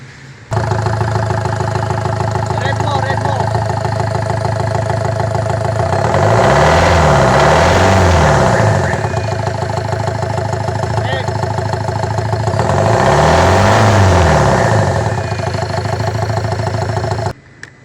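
A Ford Everest 2.2 diesel engine, checked after a timing job with its cover open, starts with one crank, idles with a steady knocking chatter, then revs up twice in long swells before settling back, loud and close throughout.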